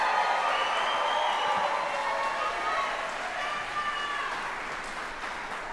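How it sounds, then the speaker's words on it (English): Applause and a murmuring crowd at an army general officer retirement ceremony, steady clapping that carries on under voices and gradually fades. "So please give yourselves a round of applause"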